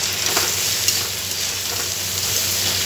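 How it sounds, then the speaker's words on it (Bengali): Ground spices, including Kashmiri chilli and cumin powder, sizzle and fry steadily in a pan as a fish head curry masala is sautéed, a continuous close crackle with faint stirring scrapes and no voices. "এবার আমরা এটাকে, এই যে গুঁড়ো মশলাটা দিলাম, এটাকে একটু কষিয়ে নেব।"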